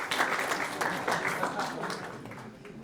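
Church congregation applauding during a sermon, a short steady burst of many hands clapping at moderate volume, with a voice faintly present underneath.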